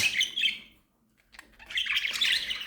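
Pet budgerigars at home give a burst of bright, rapid chirps, fall briefly silent, then resume a busy, close twittering chatter.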